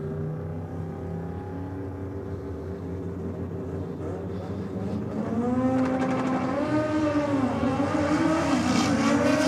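Mitsubishi Evo 3 making a drag racing pass at Sydney Dragway on a hot day, its engine note climbing steadily through the gears and growing louder toward the end, heard alone from a distance without voices.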